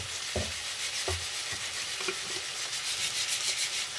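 Spice paste for egg curry frying and being stirred in a pan: a continuous bright sizzle with a few low scraping strokes of the spoon near the start, close and steady throughout.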